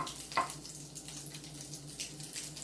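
Salmon patties frying in oil in a pan, giving a soft, steady sizzle and crackle close by, with a brief louder clink or stir near the start; faint and continuous, no talking.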